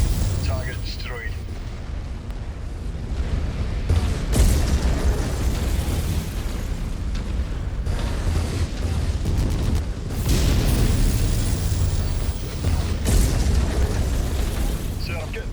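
Heavy explosions pounding a mech in MechWarrior 5, deep booming bursts that swell and roll repeatedly over a continuous rumble, with voices talking over the battle.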